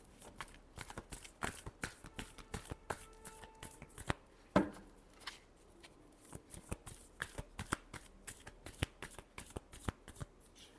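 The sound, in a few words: shuffling tarot cards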